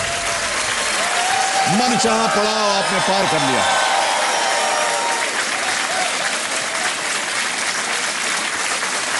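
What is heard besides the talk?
studio audience applause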